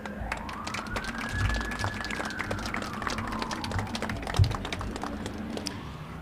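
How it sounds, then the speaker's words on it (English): A siren rises and falls as an emergency vehicle passes outdoors at a town star lighting ceremony, fairly faint and distant under crowd murmur and scattered claps. "So glad that siren went away"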